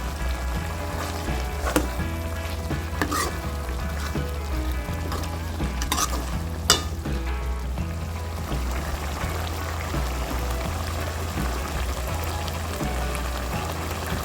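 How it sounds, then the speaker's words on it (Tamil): Egg masala curry, Tamil style, bubbles and sizzles in a pan with a steady, close crackling texture and a few sharper pops scattered through, no voices present. "முட்டை போட்டு ஒரு நிமிஷம் கொதிச்சிருச்சு"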